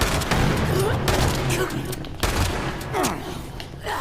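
Gunfire in the video game Fallout 76, a steady, loud clatter of rapid shots with sharp bursts and whooshing effects throughout, layered over busy in-game noise.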